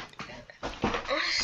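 A dog whimpers in a Minecraft game, a short whiny cry under game noise and a low voice talking.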